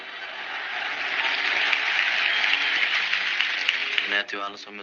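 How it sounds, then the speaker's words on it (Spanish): Sustained crowd applause as a tribute to the Chapecoense players who died, a broad wash of clapping that swells and holds, then breaks off near the end as music and a voice come in. "todos pudessem dar uma salva de palmas àqueles irmãos que se foram"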